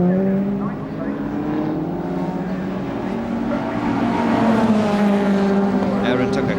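Ford Capri chasing a turbocharged Ford Sierra Sapphire Cosworth in a 1992 Fast Fords race at Snetterton, engines droning steadily with a rising, sustained pitch throughout under commentary.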